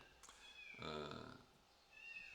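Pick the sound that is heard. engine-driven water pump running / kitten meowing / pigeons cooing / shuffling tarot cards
kitten meowing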